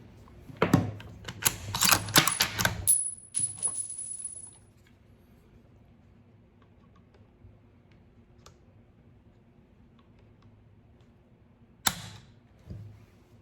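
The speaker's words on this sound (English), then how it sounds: "pull it twice just to see how many pounds the trigger is pulling at" A Remington 30-06 rifle trigger is pulled against a trigger pull gauge, giving a cluster of sharp, close mechanical clicks and snaps early on, then quiet, and one more crisp click near the end.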